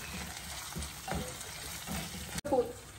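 Chicken fry sizzling in a pan with curry leaves and mint, a steady close crackle with soft stirring scrapes and a brief clatter near the end.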